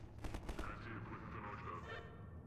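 Quick burst of several gunshots in the first half-second of Half-Life 2 gameplay, followed by lingering low game ambience and faint mechanical sounds, moderately quiet overall.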